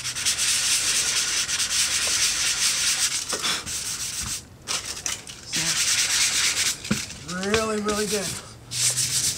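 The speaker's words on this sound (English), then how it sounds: "you can sand it until the outline's almost gone" Sanding the pad area of a surfboard-like surface by hand, steady close scratchy rubbing strokes that continue with brief pauses while a person speaks briefly over it.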